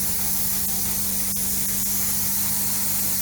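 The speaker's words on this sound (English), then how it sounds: "I will pre-spray it with the normal cleaner that we use" Steady hissing spray of cleaner onto a urine-stained couch close by, with a few faint clicks of the trigger mixed into the continuous rush.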